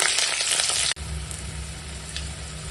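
Green chillies hit hot oil in a karahi already tempered with cumin seeds and bay leaf. A loud, bright sizzle cuts off abruptly, then gives way to a softer, steady frying crackle, with no voices.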